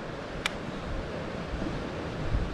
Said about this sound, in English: that wind's just getting horrible now